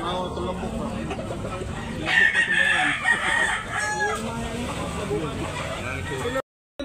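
A rooster crows loudly near the middle of the scene at a Cebu gamefowl farm, with clucking fowl around and someone talking over the birds.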